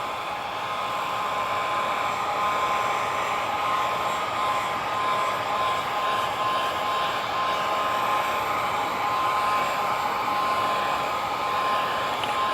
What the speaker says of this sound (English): we're going to hit this heat gun and get this nice and soft